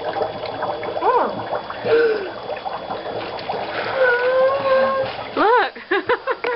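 Dry ice bubbling in water, a continuous gurgling and splashing that runs under frequent excited talk and squeals from nearby voices, close and fairly loud.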